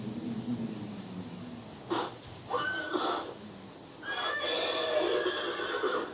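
A recorded horse neighs in a classroom lesson. Quiet breathing and snorts come first, then a couple of short whinny bursts, then a longer, trembling neigh that fades.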